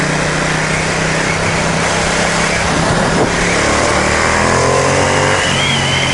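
A Ducati XDiavel S motorcycle being ridden on a bumpy road, its engine a steady loud drone with rushing wind noise, the pitch rising slightly as it pulls, with no one talking.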